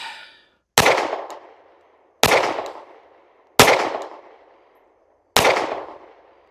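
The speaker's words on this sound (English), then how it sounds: "Let's go now shoot the Smith & Wesson." Four loud, sharp gunshots from a Smith & Wesson Bodyguard 2.0 pistol, fired at uneven intervals, each cracking close by and ringing off in a long decaying echo, with no talking.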